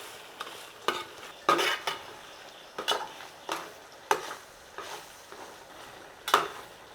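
Chicken and slit green chilies are stirred in a pot with a spoon, giving a series of irregular scraping and clattering strokes over a quiet, faint sizzle and no speech.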